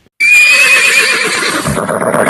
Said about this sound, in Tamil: Next hours. ஹார்ஸ் குதிரை.